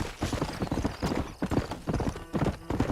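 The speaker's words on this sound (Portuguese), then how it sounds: "Cadê o cavalinho? Vem cá, cavalinho." Horse hooves clip-clopping in the Red Dead Redemption video game, a brisk rapid rhythm of close, fairly loud hoof beats running steadily throughout.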